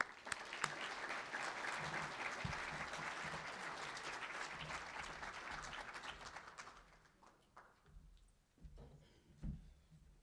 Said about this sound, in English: So if you wouldn't mind giving him a round of applause this morning.